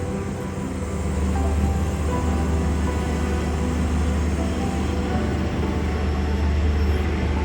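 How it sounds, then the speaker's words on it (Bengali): Garib Rath Express pulling out of platform 3 at Agartala railway station, heard from on board as a steady low rumble and rolling clatter of the carriages that builds slightly and then holds. "আগরতলা রেল স্টেশনের 3 নম্বর প্ল্যাটফর্ম ছেড়ে আমরা বেরিয়ে যাচ্ছি"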